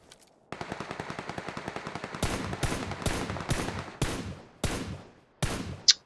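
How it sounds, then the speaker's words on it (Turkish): PUBG gunfire arrives as a rapid automatic burst of evenly spaced shots, followed by several louder, heavier single shots with gaps between them, then a sharp metallic click at the end, with no talk. "Birini vurdum."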